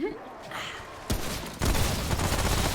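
A marksman rifle fires single shots in the game Remnant: From the Ashes. Two loud, close cracks land about half a second apart over a dense, noisy game mix with muffled voices underneath.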